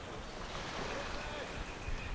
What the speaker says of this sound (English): So this is Akumal Beach in the early morning.